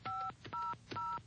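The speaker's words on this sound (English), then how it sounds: "Just dial this toll-free number" Three touch-tone telephone keypresses in a 1982 television commercial, each a clean two-pitch beep of about a quarter second, evenly spaced over faint background hum.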